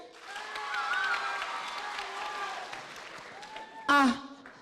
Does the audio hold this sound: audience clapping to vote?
yes